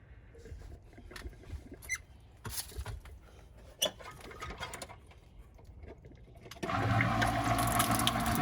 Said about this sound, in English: The first thing I'm going to do is plug this in and back flush the tank.